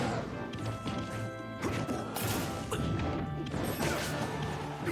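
Heavy impact crash from a forward smash attack in Super Smash Bros. Ultimate, loud and dense over busy game sounds and music, with repeated hits and clatter through the stretch.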